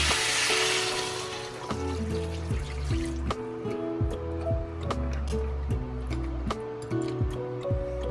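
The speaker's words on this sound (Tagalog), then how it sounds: "Lagyan ko ng tubig." Water is poured into a pot of sinampalokan goat stew, giving a steady trickling splash that starts strong and continues with clinks and bubbling sounds, and there is no talk.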